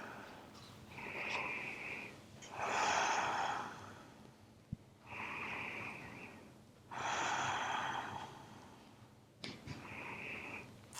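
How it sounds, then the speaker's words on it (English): Slow, heavy breathing during a held glute exercise: deep inhales and long exhales alternate in a steady rhythm, about five breaths, close and clear with no talking. "And we're just breathing."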